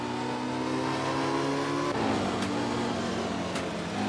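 A Porsche engine rises in pitch as the car accelerates out of a tight turn on a track, a loud steady close drone with harmonic tones shifting midway and no voices.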